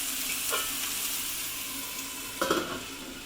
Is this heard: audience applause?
no